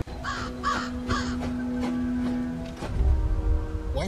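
A crow caws in a dark fantasy drama scene, three harsh, rasping calls in quick succession followed by a lower sustained tone and rumbling background, moderately loud.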